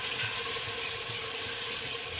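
Onion masala fries down in a pan with a continuous, fairly loud sizzle and hiss that holds steady from start to finish.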